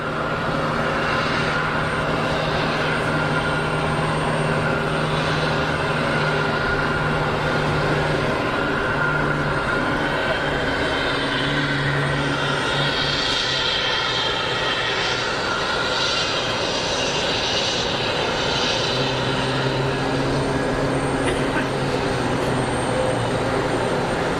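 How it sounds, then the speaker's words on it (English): A Gulfstream G280 business jet at Geneva Airport roars steadily and loud throughout, a continuous jet engine rush with shifting tones as it passes. "was a Gulfstream G280, that last one"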